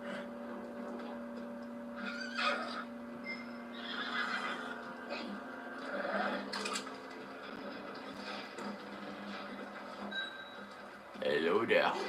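A horse whinnies in Red Dead Redemption 2, mixed with game ambience and hoof sounds, over a steady background hum; a person talks at moments through the scene.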